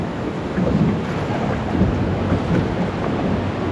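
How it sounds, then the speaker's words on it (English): A big waterfall on the Na Pali Coast roars as a dense, continuous rush of broadband noise, loud and unbroken throughout, with no voices heard. "It's a big waterfall."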